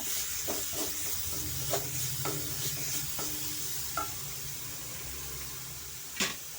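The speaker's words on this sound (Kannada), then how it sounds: "ಅದನ್ನು ಸ್ವಲ್ಪ ನಾವು ಎಣ್ಣೆಯಲ್ಲಿ ಚೆನ್ನಾಗಿ ಫ್ರೈ ಮಾಡ್ಕೊಳ್ಳೋಣ" Cashews and other bits fry in a little oil in a pan for amla chitranna, giving a steady close sizzle with rhythmic spatula taps and scrapes and a sharp knock near the end, no voices.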